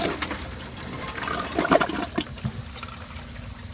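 A 2022 10-inch RI Mansfield Summit toilet flushes broken glass from a whole beer bottle, a close rushing gush of water with rattling clinks in the middle, tapering into a quieter refilling hiss.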